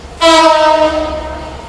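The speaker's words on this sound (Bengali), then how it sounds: "এই যে এক্সপায়ারি ট্রেন দাঁড়ায় আছে," A train standing at a Bangladeshi railway station sounds a loud, close horn, one sustained tonal blast that starts abruptly and slowly fades over its length.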